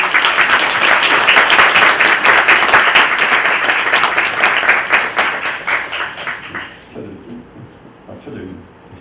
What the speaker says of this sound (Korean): 큰 격려의 박수로 우리 환영하기 원합니다